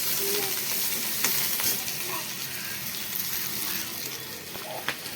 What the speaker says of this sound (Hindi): ये चावल है जो बच गए थे, अब मैं इसको फ्राई कर रही हूँ।